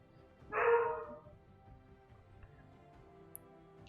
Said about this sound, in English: It's my dog, sorry about that.